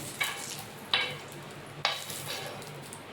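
Semolina uttapam cooks in oil on a pan with a low, steady sizzle, broken by a few sharp scraping clinks that come roughly once a second, close and fairly quiet.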